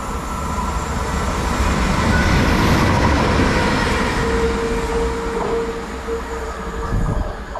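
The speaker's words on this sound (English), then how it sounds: "heading through there is 197048, heading through on a Transport for Wales service, I believe, to Swansea from Manchester Piccadilly" Transport for Wales class 197 unit 197048 passes through a station with a steady, loud rolling rumble, building slightly and then easing, with a thin wheel squeal and no voices.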